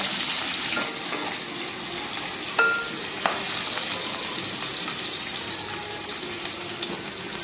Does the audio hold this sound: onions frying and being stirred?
yes